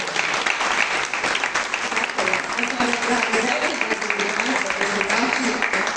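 Audience applause at a Children's Day event in Belgrade, steady crowd clapping throughout with some voices mixed in.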